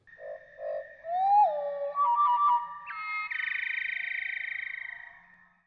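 Slowed wood thrush song at one-third speed, a sequence of drawn-out tonal phrases: low warbled notes, a rising glide, stacked chiming tones, then a long buzzy trill that fades at the end, clear and alone.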